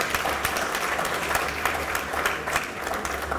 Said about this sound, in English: I believe all the countries deserve a round of applause.